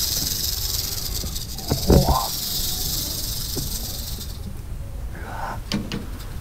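An albino rattlesnake of the largest rattlesnake species, held at a snake center, shakes its rattle in a loud, continuous hissing buzz at close range for several seconds before it stops. Brief soft voices and handling sounds follow.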